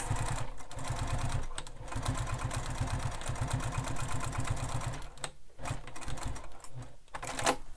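A sewing machine runs steadily, stitching a bag strap from its end, with rapid needle pulses throughout and brief stops and restarts near the end for back stitches.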